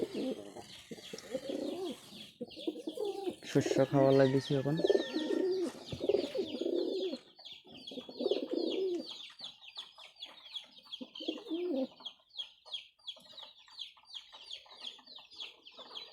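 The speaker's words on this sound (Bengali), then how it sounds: "এখানে পাঁচ জোড়া কবুতর আছে" Several pairs of fancy pigeons coo and flutter while feeding on grain on a winter morning, soft throaty coos and rustling close by, with a brief spoken remark among them.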